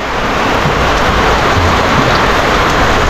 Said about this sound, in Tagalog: Bigla-bigla yung ulan, ah.